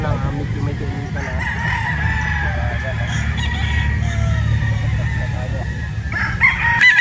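A Gilmore straight comb gamecock rooster crows loudly and close on a farm, with a long drawn-out call plus clucking and other farm birds around it, and someone talking faintly underneath.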